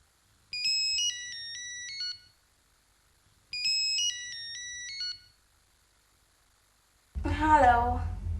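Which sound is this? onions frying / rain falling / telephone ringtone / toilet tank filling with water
telephone ringtone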